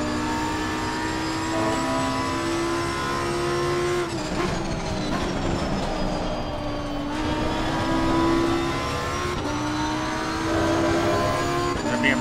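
BMW GT race car in Assetto Corsa Competizione at Watkins Glen, engine wailing steadily at high revs from inside the car, with sharp pitch drops at gear changes around four, seven and nine seconds before it climbs again.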